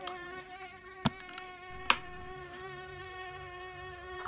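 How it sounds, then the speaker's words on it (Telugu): Persistent high-pitched whine of mosquitoes buzzing close by, steady throughout with a few sharp slaps or knocks breaking in. "చీ నీ అమ్మ ఏం దోమలరా నాయన"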